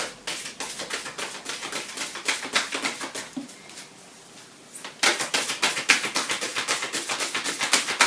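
Ganesh oracle cards being shuffled and cut, a fast, close run of crisp riffling flicks that pauses briefly and then resumes just as quickly.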